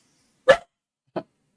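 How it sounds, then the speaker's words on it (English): A little guard dog gives two short, sharp barks about half a second apart, close by in an otherwise quiet room. "Clove, little guard dog."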